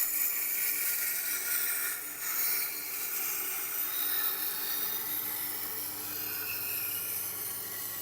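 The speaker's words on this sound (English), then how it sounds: "I'll roughen the wheel with my 80 grit diamond plate" An 80 grit diamond plate scrapes across a turning Tormek sharpening wheel, a faint steady rasping hiss with a low motor hum underneath, continuous and uninterrupted.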